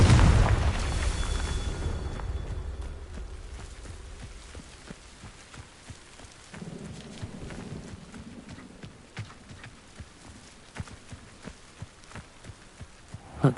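Blast of the Confringo explosive spell in Hogwarts Legacy, a deep booming burst at the start that fades into a long low rumble, followed by scattered soft thuds and clicks.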